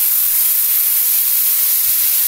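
Tap water runs in a steady, even hiss while vegetables are washed during cooking of a mixed-vegetable jhal and cabbage paste, heard alone and unbroken throughout.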